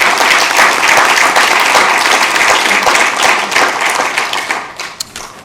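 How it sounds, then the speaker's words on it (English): Sacramento City Council meeting audience breaking into applause, a dense, steady wash of many hands clapping close by that carries evenly throughout and then thins and fades in the last second. "So give them a round of applause"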